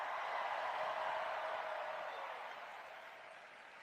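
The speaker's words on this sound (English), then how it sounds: "Can we first hear a round of applause for our incredible MC" Crowd applause at a rally event greets the MC, Sarah Sherman: steady, dense clapping that holds loud, then gradually tapers over a few seconds.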